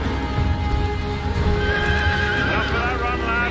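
A horse whinnies loudly over clip-clopping hooves in a Lord of the Rings: The Rings of Power TV episode scene, with voices talking throughout and other effects mixed in.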